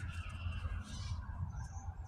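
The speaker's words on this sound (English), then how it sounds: "The birds are chirping." Birds call outdoors at a spring camping spot, a few faint caws and chirps scattered over a low, steady background rumble.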